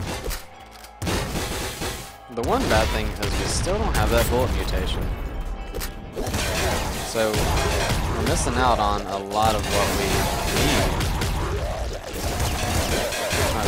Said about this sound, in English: Don't get lost in the explosions.